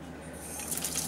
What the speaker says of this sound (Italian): Ed ecco che ho chiuso l'acqua.